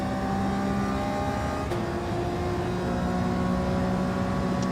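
A car engine in Gran Turismo 7 holds a steady, droning rev with a smooth tonal hum throughout, loud and close, with a slight pitch shift partway through and no talking.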